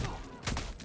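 Rapid bursts of gunfire from the video game Helldivers 2, a loud continuous fusillade filling the short moment with a sharper surge partway through.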